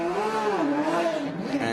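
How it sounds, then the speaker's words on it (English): A Porsche GT race car engine fires up and revs at a circuit during an ADAC GT Masters race at the Sachsenring, a steady, rising and falling engine note with clear harmonics, sustained and fairly close. "Porsche fires up once again."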